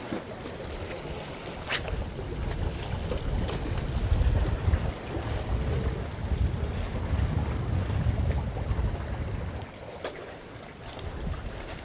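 A strong crosswind buffets the microphone at a harbour breakwater in Busan, a continuous loud rumbling roar with gusts that swell and ease, and faint water and surf noise underneath.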